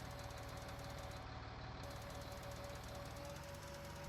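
A tractor engine in the farming game Farming Simulator 19 drones steadily with a low, continuous rumble and a faint throbbing beat, quiet and unchanging throughout, with no talking.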